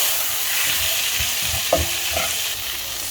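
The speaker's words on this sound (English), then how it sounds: "Give it a stir and let it cook until the onions soften up slightly." Onions softening in a pot of soup with chicken stock, a continuous close sizzle broken by a few scraping stirs of a spoon, with no talk.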